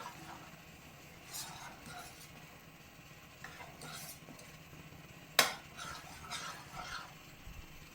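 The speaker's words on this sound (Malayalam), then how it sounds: "ചേർത്ത് നല്ലതുപോലെ ഇളക്കി മിക്സ് ചെയ്യാം." A spoon stirs pumpkin payasam, a Kerala-style pudding, in a pot, making faint scraping and clinking strokes with one sharper metallic clink midway. The background is quiet.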